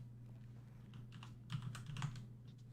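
Keys clatter on a computer keyboard in short bursts, clearer in two quick flurries, over a steady low hum in a quiet room.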